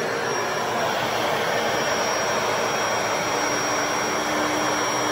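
A Bissell Pro Heat carpet cleaner, newly reassembled after a spraying fault, runs with a loud, steady motor whine and roar that holds constant throughout, with no talking.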